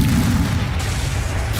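Confringo fire spell explosion in the Hogwarts Legacy video game: a dense, steady low boom and roar filling the moment, loud and close with no voices.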